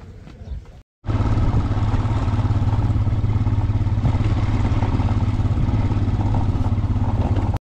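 A motorcycle rides a rough mountain road in Ladakh toward Pangong Lake, its engine a loud, steady, continuous drone with clatter after a brief quiet start.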